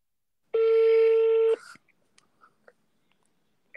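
Telephone ring tone during a call, a single steady electronic tone lasting about a second, close and clear, followed by faint rustling and a brief voice.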